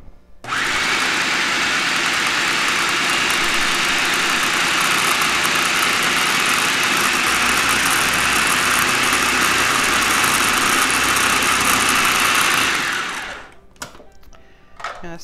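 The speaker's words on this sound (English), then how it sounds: "I'm gonna mix this up now. And it's gonna be loud, sorry." Electric mixer beating thick vegan black bean brownie batter, a loud steady whirring drone that starts abruptly, runs unbroken for about twelve seconds near the mic, then cuts off, followed by a few small clunks.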